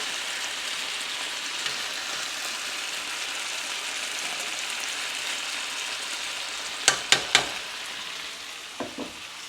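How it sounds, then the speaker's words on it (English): Potatoes and onions sizzle and crackle steadily in a hot pan on a stovetop, followed near the end by a few sharp scraping clacks of stirring. "Get them onions all mixed in there."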